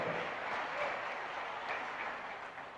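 Steady applause from an audience at an Indonesian political party gathering, dense continuous clapping filling the whole stretch at a fairly even level.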